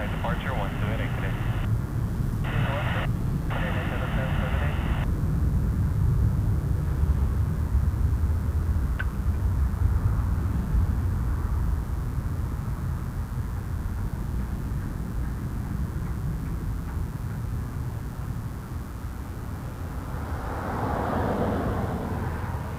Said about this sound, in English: departure of the Korean Air 777-300 Skyteam Livery